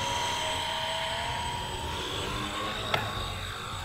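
A Blade 150 FX RC helicopter flies close by with a steady, loud rotor whine and buzzing motor drone held throughout, plus one brief sharp transient near the end.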